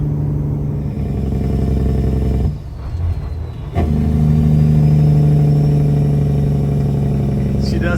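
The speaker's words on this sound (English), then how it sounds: "She does sound real nice, doesn't it, with that little muffler?" A truck with a new Detroit engine drones steadily through a small muffler, with a steady mid-pitched exhaust tone. There is a short dip in the middle before the note returns fuller and louder, heard close and continuous.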